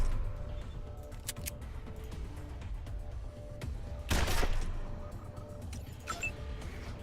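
Gunfire in the video game Wasteland 2 sounds as a few sharp reports against quiet ambience, with one louder, longer burst of fire near the end.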